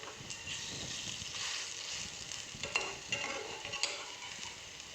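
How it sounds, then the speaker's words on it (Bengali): Bottle gourd leaf fritters fry in hot oil, producing a steady close sizzle with a few sharper crackles and spatula scrapes as they cook on both sides. "দু পিঠই এরকমভাবে ভালো করে সুন্দর লাল লাল করে ভেজে নেব"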